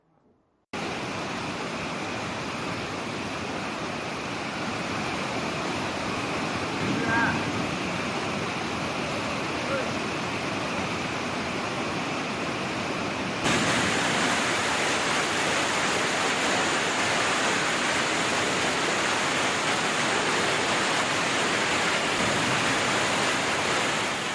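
Kumbakkarai waterfall in Theni runs in flood, a steady dense roar of gushing water that holds unbroken throughout and grows louder and brighter partway through, with no voices over it.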